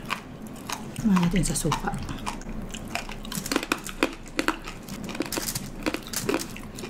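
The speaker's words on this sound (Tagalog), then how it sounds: "Pumuputok sa bibig. Sarap. Ang lutong eh." Crunchy lechon pork skin being bitten and chewed up close, with crackly, irregular crunches and wet chewing snaps, while people talk over and between the bites.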